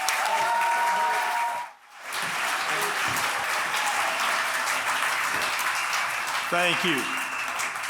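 Gala audience applauding at a 50th anniversary celebration, a dense sustained wash of clapping that dips briefly then resumes, with a voice speaking a short thanks over it.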